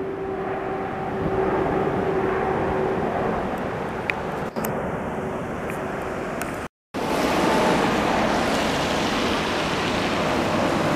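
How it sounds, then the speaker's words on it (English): Large jetliner passing overhead at a Montreal plane-spotting site, a steady broad roar holding loud throughout with a brief dropout midway, no talking. "my definition of heavy is a really large jetliner plane"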